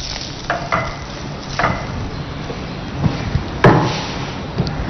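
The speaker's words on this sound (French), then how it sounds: "Toujours remuer avant de verser." Crêpe batter being stirred before pouring for a sweet Chadian crêpe, a few soft scraping and tapping strokes against the bowl over a low background hiss from the stove.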